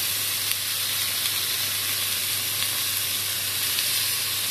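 Lamb chops frying on baking paper without oil, giving a steady, dense sizzle that hisses continuously and loudly up close, with no talking.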